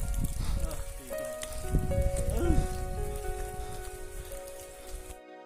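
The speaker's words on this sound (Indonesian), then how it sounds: "Ayo sudah hujan." Rain falls steadily on a misty mountain trail on Gunung Bawakaraeng in South Sulawesi, a continuous close patter under faint music and voices, stopping abruptly at the end.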